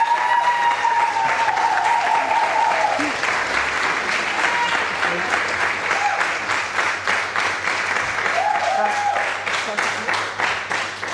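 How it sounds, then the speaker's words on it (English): Sustained audience applause fills a room at an awards dinner, loud and steady throughout, with a few voices and cheers mixed in, tapering slightly toward the end. "Let's give a round of applause to Ness"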